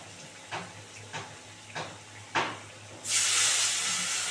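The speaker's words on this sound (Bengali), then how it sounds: "কফিগুলো এবার দিয়ে ভালো করে একটু ভেজে নেবো।" Four soft clunks as a pan is handled, then boiled cauliflower hits hot oil with red-fried potatoes and bursts into a loud, steady sizzle.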